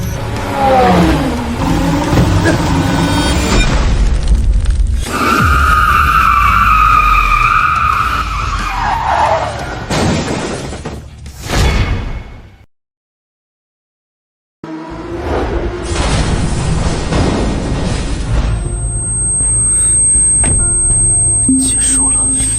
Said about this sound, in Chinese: 江辰退赛了，轮胎爆胎